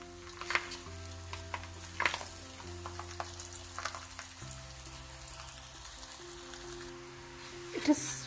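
A paratha sizzles and fries in a little excess oil on a hot tawa, a steady crackle with occasional louder spits and a brief clatter near the end.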